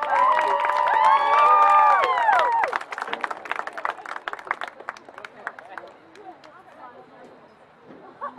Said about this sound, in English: Ladies and gentlemen, give a big round of applause for Knox Central High School senior football player, Mr. Zach Mills.